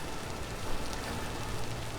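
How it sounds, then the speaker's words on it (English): Heavy rain falls steadily at sunrise, a dense, even hiss of drops hitting surfaces close by, continuous and unbroken with no voices. "it's far too rainy for us to be able to see anything useful"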